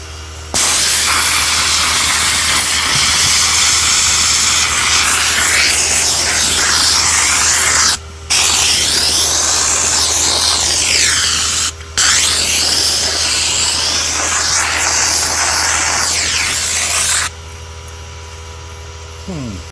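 A Tractor Supply sand blaster gun sprays under an undersized air compressor, giving a loud, steady broadband hiss that runs almost continuously for about seventeen seconds, broken by two brief pauses, then cuts off.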